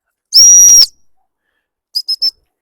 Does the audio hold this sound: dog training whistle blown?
yes